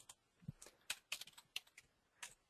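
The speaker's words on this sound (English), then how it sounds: "if you see what I'm typing in here" Quiet typing on a computer keyboard gives a scattered run of sharp, close key clicks in uneven rhythm, with no talk over them.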